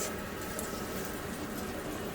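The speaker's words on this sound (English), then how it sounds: "Alright, it's sizzling, so that should be hot enough." A steady, dense crackling hiss of meat frying in butter in a hot pan, continuous and fairly loud with no pauses or voices.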